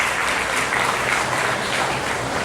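A crowd applauds at an HR meet panel discussion session, loud sustained clapping at an even density throughout, with no speech over it.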